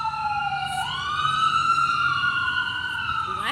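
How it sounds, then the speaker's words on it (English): Emergency vehicle sirens pass outside, a loud wailing tone rising and holding steadily for several seconds with a second siren starting near the end. "every time I want to make a freaking video, the damn sirens?"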